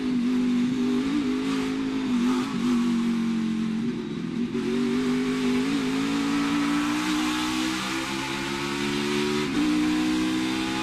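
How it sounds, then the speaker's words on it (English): A race car engine revs and pulls hard through the infield and back up onto the banking at the Drive for the Cure 250, a loud continuous onboard roar with gear changes and rising pitch throughout. "Let's ride with Allmendinger as he goes through the infield and then back up onto the banking."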